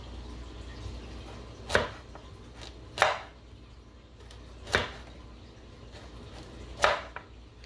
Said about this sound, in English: Let me start by cutting up the carrots.